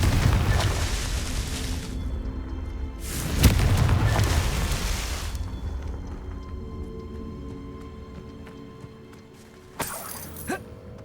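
A Confringo fire spell blasts in the Hogwarts Legacy video game: a loud booming burst opens, a second explosion hits a few seconds later, a long rumbling decay follows, then a couple of sharp cracks near the end.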